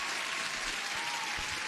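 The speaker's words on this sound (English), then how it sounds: "I have to give you an applause first of all" Continuous applause, a dense even patter of clapping at moderate loudness with a few low thumps underneath and no voices.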